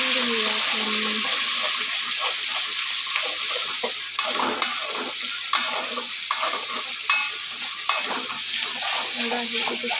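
Chole spices being sautéed in a pan with roasted onion, tomato and coriander, a steady broadband sizzle with scraping stir strokes and small clinks throughout, faint voice tones in places.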